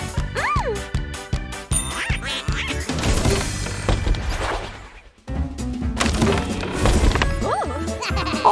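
Cartoonish quacks from jelly ducks in a Digital Circus-themed escape video game ring out over lively music, with squeaky rising calls, crashes and layered effects; a gap of near-quiet falls midway.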